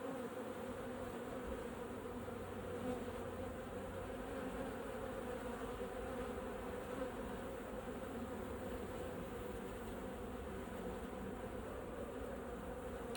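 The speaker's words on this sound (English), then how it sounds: "That wasp got kicked out, second wasp to get kicked out." A steady, dense buzzing of many bees and robbing wasps at a hive, continuous and close, with no voices.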